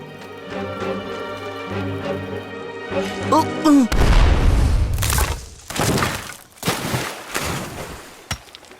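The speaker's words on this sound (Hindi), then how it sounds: "धमाका होने वाला है।" A loud cartoon-style dynamite explosion deep in the earth bursts after a musical lead-in, followed by crashing, rumbling debris sounds that come in several heavy waves.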